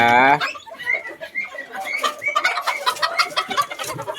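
Bantam chickens in Khon Kaen: the tail of a nearby crow opens, then a busy run of close, repeated clucks and short calls from several birds follows.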